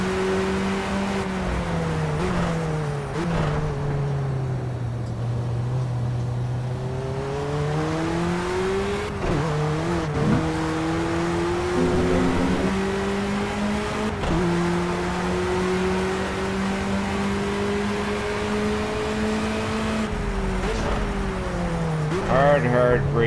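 Ford Sierra RS500 Cosworth Group A race car engine in the Project CARS video game at Hockenheim, Germany, droning loudly and steadily through the whole stretch, its pitch rising and falling with gear changes under throttle and braking.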